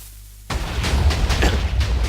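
A TNT cannon fires in Minecraft while attacking a golem, bursting out of near silence into a loud, sustained rumbling blast with crackling pops layered over it and no voices.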